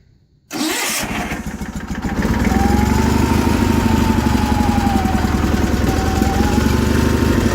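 The Onan engine on a 1984 John Deere 316 lawn tractor cranks briefly, then catches and settles into a steady, loud running rumble close by. The engine has a slight miss and is running on choke.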